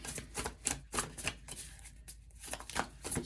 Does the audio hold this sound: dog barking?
no